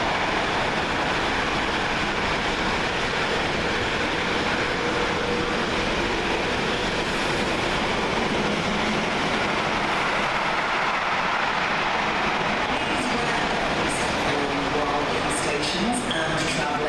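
Class 66 diesel locomotive 66.520 hauls a long freight train through Milton Keynes Central station, a loud sustained roar and rumble of wagons lasting throughout, ending with clattering wheel clicks.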